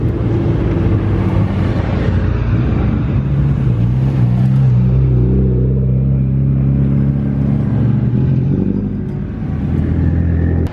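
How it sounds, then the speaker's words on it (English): Race cars roar past at full speed on the front straight at Mid-Ohio during a GridLife TrackBattle event, a loud continuous engine rumble and revving that swells and fades as cars go by, with no voices. "standing on the front straight, watching those cars come by at full clip"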